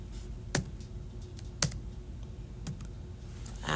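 Quiet typing on a computer keyboard while filling in a web form, a scattered run of soft key taps with a few sharper, louder clicks standing out from the low background.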